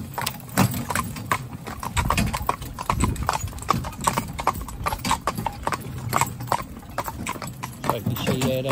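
A grey horse in a pair of harnessed driving horses steps forward, its hooves clip-clopping in an uneven series of close, sharp hits over a low background murmur.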